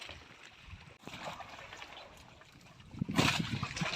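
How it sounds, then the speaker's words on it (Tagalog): A strong river current rushing past a small fishing boat, a steady low wash of water that swells into louder splashing toward the end. "Grabing lakas na ng agos."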